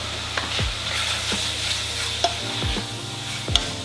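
Medium curry powder cooking in a pan, a continuous close sizzle with several scraping stirs of a utensil across the pan and no voices.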